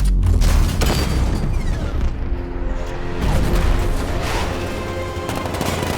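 Heavy booming .60mm cannon fire from Batman: Arkham Knight, with a dense barrage of shots and rumbling blasts, loud and continuous, with a steady game soundtrack underneath.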